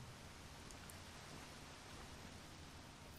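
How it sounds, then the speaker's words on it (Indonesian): Rain in an Android GTA-style video game falls as a soft, even hiss of steady downpour, faint and continuous with no other sounds. "Kemudian ini make rain, oke. Okay. Hujan ya."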